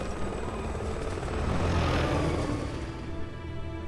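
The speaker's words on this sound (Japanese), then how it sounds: "あのヘリコプターは何なんだ。" Steady, loud rotor whir and engine rumble of a helicopter in the video game Resident Evil 6. It holds close and constant, swells slightly near the middle, then eases back.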